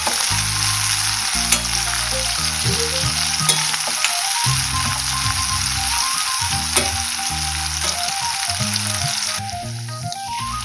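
Dried prawns fry lightly in a pan over a medium flame for a ridge gourd and dried prawn curry, giving a steady sizzle that runs beneath continuous background music.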